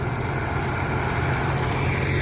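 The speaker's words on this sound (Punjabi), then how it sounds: "ਦੇਖੋ ਫਿਰ ਟਰੈਕਟਰ ਦਾ ਤੋਰਾ" A tractor creeps along slowly on a hillside farm, its low, steady engine drone continuing unbroken and fairly close, with no voices.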